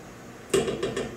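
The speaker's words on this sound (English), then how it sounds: "I have my little spatula to scrape out all that delicious peanut butter" A small spatula scrapes peanut butter out of a container in three or four quick, close scrapes and knocks against the side, each a short hollow clatter.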